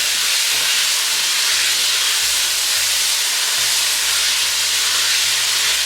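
Garlic and a whole chopped onion cook in a pot for pasta fagioli, giving a loud, dense, continuous hiss that fills the whole span without pause.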